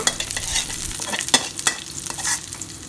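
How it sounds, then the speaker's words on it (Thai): Minced garlic stir-fries in hot oil in a wok, a steady close crackling sizzle broken by sharp scraping strokes of a spatula against the pan. "น้ำมันเริ่มร้อนค่ะ เราใส่กระเทียมสับลงไป ขั้นตอนตรงนี้เราจะผัดให้กระเทียมหอมก่อนนะ"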